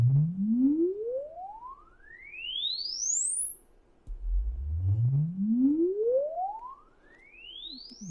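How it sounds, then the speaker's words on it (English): Sine wave frequency sweep played through an MBL 101 E speaker, two clean rising tones gliding from deep bass up to a high whistle, the second sweep starting after a brief pause. "Don't know how much you can hear of the sweep. Let me turn it up."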